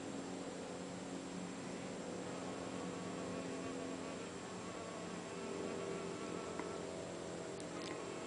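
Mason bees buzz around their nest holes in May, a steady, continuous insect drone at moderate level, with no voices.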